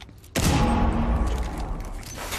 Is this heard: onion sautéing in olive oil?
no